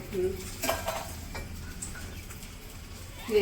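Small bata fish fry in a pan with a steady low sizzle, broken by close clatter and scraping of a utensil against the pan.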